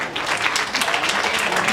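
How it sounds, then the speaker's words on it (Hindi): Audience applause at a Hindi poetry recital, steady dense clapping from a crowd that carries on without a break. "आप लोग उनके लिए बढ़िया सी तालियां बजाएं।"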